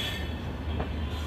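Diesel passenger trains, the Jabalpur–Veraval service, pass at a crossing with a steady rumbling roll of wagons and a faint squeal of wheels, heard close by without any talking.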